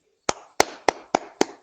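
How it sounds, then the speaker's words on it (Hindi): Six sharp, evenly spaced hand claps ring out close to the microphone in a quiet room, a single person applauding a poet during an online yoga program, each clap short with a brief decay. "सभी लोग एक बार तालियां बजा दें"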